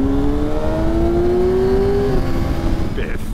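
Straight-four 600cc sportbike engine, a Honda CBR600RR or Kawasaki ZX6R, rising in a smooth, high whining rev, loud and close, then dropping off, with a voice briefly underneath.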